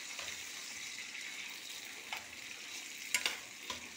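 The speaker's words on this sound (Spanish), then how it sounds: "Vamos a asar en el comalito los chilitos jalapeños." Jalapeño chiles roast on a comal griddle, a soft steady sizzle with quiet hissing and a few sharp clicks and taps near the end.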